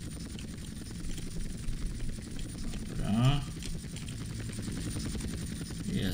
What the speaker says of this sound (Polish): Teraz tylko wylądować tym helikopterem posranym.